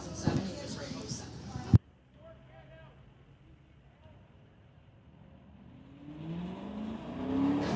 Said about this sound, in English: And the Corvette taking off.